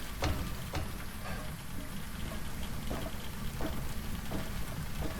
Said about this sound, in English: That really how this sounds like when it's raining.